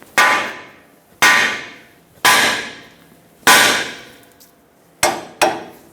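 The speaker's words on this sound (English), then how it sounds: "use a hammer, tap the knuckle right here" A hammer strikes the steering knuckle of a 1999-2025 Ford E-350 to free the outer tie rod stud, giving six sharp metallic blows: four evenly spaced, then a quick pair, each ringing briefly.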